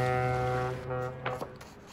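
A deep, droning ship foghorn blast sounds for about a second, then cuts off, leaving a few faint knocks and a low background rumble.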